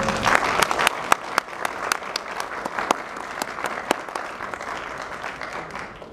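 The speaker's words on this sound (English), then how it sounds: "if you could hold your applause till the end of remarks" Audience applause at a Club 20 political debate, a dense steady patter of many hands with a few sharper individual claps standing out, sustained at moderate level throughout.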